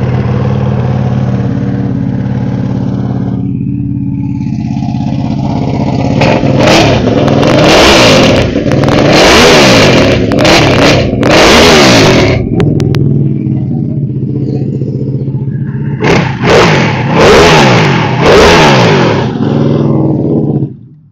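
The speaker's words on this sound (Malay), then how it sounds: "Jom kita start tengok ini Ducati Panigale V2 Revoke exhaust" A 2021 Ducati Panigale V2 fitted with a Revoke aftermarket exhaust, idling loud and close before repeated sharp throttle blips rise and fall in quick bursts, then a second cluster of revs before it settles back to idle.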